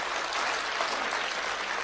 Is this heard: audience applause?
yes